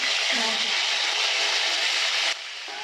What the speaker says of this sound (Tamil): கத்திரிக்காய் ஒன்று நல்லா போட்டு நல்லா எண்ணெயில் ரோஸ்ட் பண்ணிடலாம்